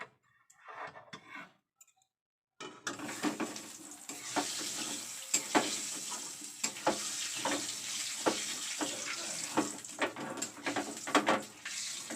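Spinach greens and egg frying in hot oil for a Bengali shrimp and garlic dish, a near steady sizzle with stirring clicks and scrapes after a brief quiet opening of small clatter.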